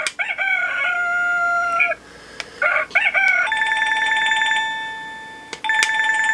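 A Wsdcam wireless doorbell chime plays a loud electronic melody of clear sustained tones after its button is pressed, several short phrases with brief pauses between them, close and alone without talk.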